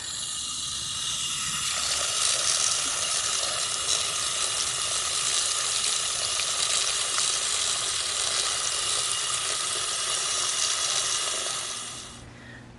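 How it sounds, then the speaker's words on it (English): A long steady rush of running water fills a container, a bright hissing stream that holds constant before tapering off near the end. "I'm going to fill this with water"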